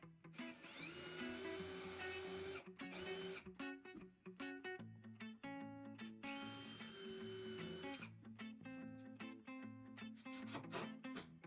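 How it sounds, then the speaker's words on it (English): A power drill whines up and bores pilot holes through plywood in several bursts, each rising in pitch and stopping sharply, with rasping, grinding texture between runs. "I'm going to drill some pilot holes"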